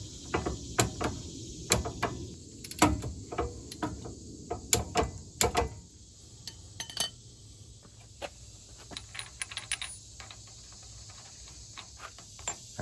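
A breaker bar held on the lug nuts of a Sierra truck's wheel hub gives a series of sharp metallic clicks and clanks, loud and irregular at first, then quieter scattered ticks and light rattling.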